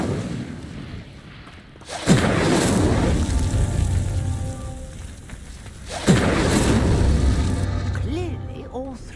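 Incendio fire spell lighting pyres in the video game Hogwarts Legacy: two loud whooshing bursts of flame, each swelling suddenly and roaring on for several seconds, with crackling and ringing tones near the end.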